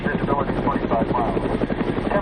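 A Red Cross helicopter in flight near the Iranian border and southern Afghanistan, its rotor thumping in a fast, even rhythm, loud and close with an engine drone underneath.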